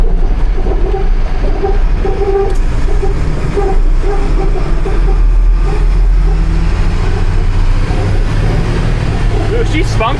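An LMTV military truck driving, with a steady low engine and road rumble that holds loud and constant throughout, and voices talking over it.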